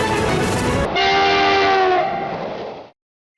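A train horn blares loud and close over the rumble of rail cars, used as a news-segment transition; the horn holds steady for a few seconds, then the sound cuts off abruptly into silence.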